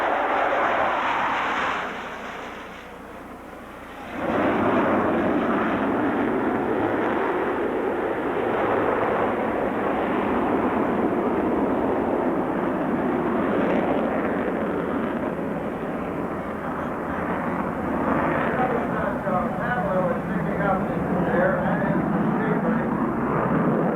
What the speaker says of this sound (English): The F-15A is designed as an air superiority fighter.